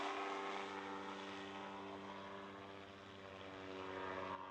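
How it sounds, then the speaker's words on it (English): A Sportcopter Vortex gyroplane fitted with full Lotus floats flies by, its propeller engine giving a steady droning buzz that holds for a few seconds at a moderate distance. "You're watching Jim Vanek flying his personal Sportcopter Vortex, adapted with special suspension, full Lotus floats, and a retractable accessory water rudder slaved to the main rudder"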